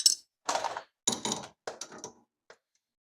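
An AN wrench works AN10 fuel line fittings on a high-flow fuel pump setup, giving several short bursts of close metallic clicks and scraping with quiet gaps between, ending in one small faint tick.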